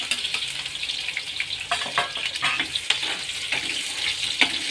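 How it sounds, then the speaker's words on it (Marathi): Finely chopped onion and green chillies fry over low heat in a pan, a steady close sizzle with crackles and light scraping of stirring running throughout, no voices. "मंद आचेवरती कांदा छान परतून घ्यायचा आहे"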